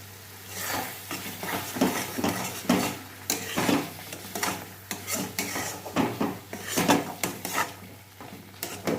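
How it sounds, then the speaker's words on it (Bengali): Masala with cashew paste being stirred in a pan, a spoon scraping and clacking against the metal in an uneven rhythm of close, fairly loud strokes over a faint steady hum, with no talking. "এবার আমি এতে মিশিয়ে দিয়েছি কাজু বাটা আর খুব ভালো করে নাড়তে হবে যতক্ষণ না তেল ছাড়ছে"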